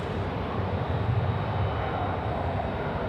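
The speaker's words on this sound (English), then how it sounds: "the Emirates A380 now on the runway here at runway right." An Emirates Airbus A380 sits on the runway at Sydney Airport at night, its jet engines giving off a loud, steady, broadband roar with a deep rumble underneath.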